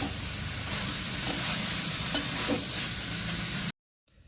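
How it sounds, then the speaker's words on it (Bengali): Jackfruit curry with spices stirred with a ladle in a hot pan, a steady close sizzle with occasional scraping clicks, ending abruptly in silence. "মাসি ঢাকা খুলে আবার এঁচোড়গুলোকে নাড়াচাড়া করতে শুরু করলেন হাতা দিয়ে"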